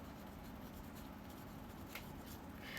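Pen writing by hand in a paper budget and finance planner, a soft continuous scratching close by with a few slightly louder strokes near the end, no talking.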